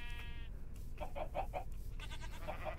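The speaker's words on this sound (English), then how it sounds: "So many sheep." Sheep bleating in the video game Minecraft, several short wavering bleats in quick succession, close and clear over a low background hum.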